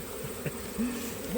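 Honey bees swarming around beekeeping suits during a honey harvest, a steady close buzz with individual bees whining past in rising and falling swoops.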